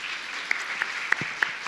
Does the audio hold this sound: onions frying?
no